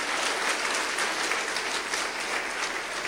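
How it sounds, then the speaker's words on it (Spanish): A church congregation applauding during a Spanish-language service, a dense, even roar of clapping that holds steady throughout. "Dale un aplauso más fuerte al Señor, al que provee el agua viva."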